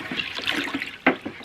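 Brine with pickling spice being stirred to dissolve it, a continuous liquid swishing and trickling with a sharper splash near the end, close and moderately loud, no talking.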